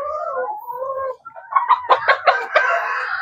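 Dekalb Brown laying hens cluck and squawk at close range, a run of sharp, rising calls that grows busier and louder toward the end, with no talk.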